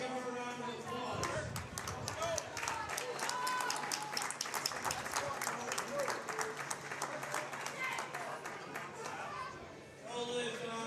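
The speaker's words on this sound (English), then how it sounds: "Give her a round of applause." Applause from the audience at a powerlifting nationals meet fills the room with dense, sustained clapping and crowd chatter, loud throughout, with voices mixed in near the end.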